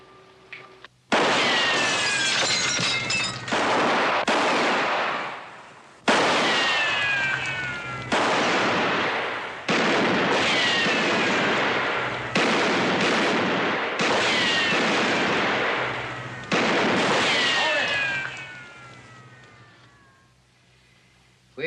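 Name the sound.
gunfire in a western shootout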